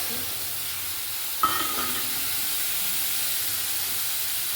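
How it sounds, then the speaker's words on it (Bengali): Mustard paste thinned with water is poured into a hot pan of oil tempered with black cumin seeds and a green chilli for a hilsa curry, giving a brief splash and burst of sizzle over a steady, fairly loud steaming hiss. "এবার এখানে সর্ষে বাটার জলটা দিয়ে"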